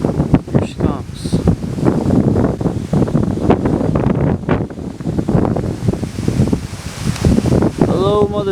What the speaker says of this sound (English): starting to get more windy now.